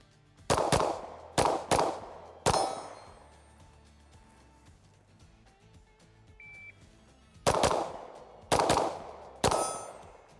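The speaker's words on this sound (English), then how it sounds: "I don't need to shoot any more mags to tell you guys that the Walther PDP F-Series is the best shooting" Walther PDP F-Series compact pistol gunshots ring out close by, three sharp shots in quick succession, a quieter pause with a faint beep, then three more.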